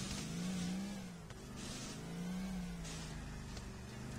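Battered car engine in GTA IV, revved twice in long swelling surges that rise and fall, mid-level and alone with no talk.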